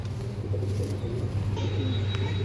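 Andhra breed pigeons coo in low, steady murmurs over a constant loud hum, with a faint high tone near the end and no voices.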